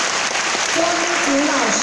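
Audience clapping in a hall welcoming a choir conductor at a thanksgiving gathering in Taichung, a dense steady wash of applause with a voice speaking over it near the end.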